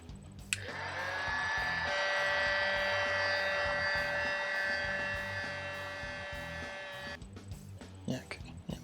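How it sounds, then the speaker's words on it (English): A heat gun blows steadily up close while loosening the stiff joints of a model figure, a constant whirring hum lasting several seconds and then cutting off. "I'm going to hit this guy with a heat gun just to loosen them up"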